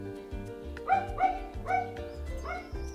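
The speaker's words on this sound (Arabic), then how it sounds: "هذا الكلب قاعد يصيح من الصبح ما يسكت." A dog barks in a run of several close, sharp, evenly spaced barks over about three seconds, with no voices, indoors or near an apartment.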